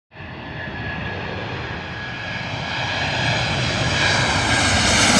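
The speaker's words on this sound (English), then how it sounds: "Those Boeing jets, man. The engines are so loud on those." Boeing jet engines roaring at LaGuardia Airport in Queens, a loud, steady broadband rumble that swells gradually as the aircraft passes close by, with no voices over it.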